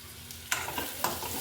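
Tomatoes and dry prawns sizzling in a pan, with two distinct scraping stirs over a continuous close hiss.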